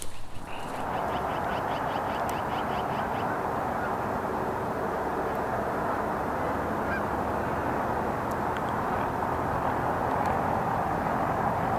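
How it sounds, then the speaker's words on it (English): A lone goose honking outdoors during a winter bird count in Lethbridge, with calls audible early on amid steady wind-like background noise. "Here's that lone goose from this morning."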